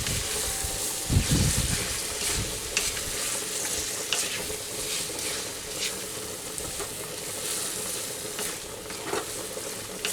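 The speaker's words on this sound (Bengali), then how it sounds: "1 থেকে 2 মিনিট পর্যন্ত আমি এই মশলাটার সাথে মোচাটা আমি কষিয়ে নেব।" Banana flower fried with spices in oil, a constant hissing sizzle close up with irregular scraping strokes of the spoon against the pan, and no talking.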